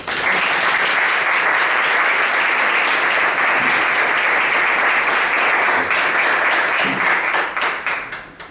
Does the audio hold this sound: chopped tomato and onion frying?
no